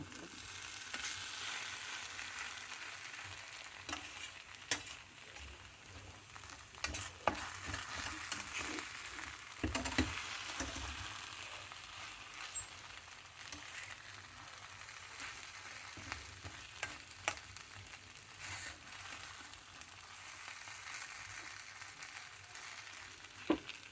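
Sabudana khichdi is stirred in a pan, producing a quiet continuous sizzle broken by scattered scraping and tapping clicks of the spoon against the pan across the whole stretch.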